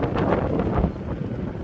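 Steady outdoor wind at a beach with surf, a continuous broadband rush buffeting the microphone with slight gusts throughout, no voices.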